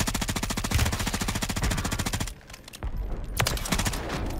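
Rapid automatic gunfire in the video game Warzone 3 from a Bruen loadout, a dense, loud burst of shots lasting about two seconds, then a brief pause and a few scattered follow-up shots.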